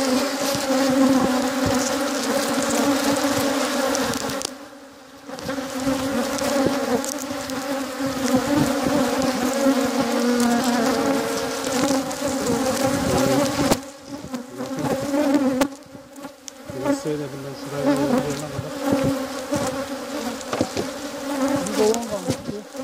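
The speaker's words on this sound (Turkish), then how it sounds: "Babandaki petekleri çıkarttık arkadaşlar böyle ortaya. Arılar şimdi kendilerine keyif yapıyorlar." Honeybees buzz densely around combs pulled from a two-story hive, a loud, continuous drone throughout with a few brief dips.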